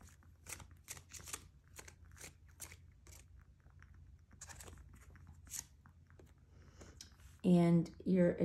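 Tarot cards being shuffled for a pick-a-card reading, giving a run of soft, quick riffling bursts up close, followed at the end by a brief burst of louder, louder-toned sound.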